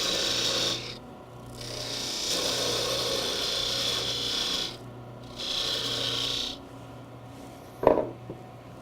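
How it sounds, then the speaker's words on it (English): A parting tool cuts into a wooden Christmas ornament spinning on a lathe, giving a steady rasping whine in several sustained passes with short pauses between them, then a sharp knock near the end. "you need to use your parting tool to part down a little bit further"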